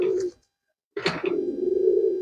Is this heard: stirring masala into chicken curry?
no